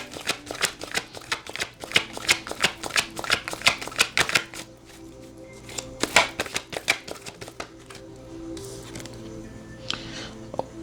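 Tarot cards shuffled briskly by hand for a reading, a dense run of crisp slapping riffles close up, a short pause midway, then more bursts of flicking that thin out toward the end.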